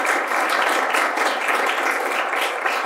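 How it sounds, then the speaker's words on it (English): Steady applause from an audience after a talk on open source program offices, a dense, even wash of many hands clapping close by, sustained at a constant level throughout. "Let's give a round of applause for that."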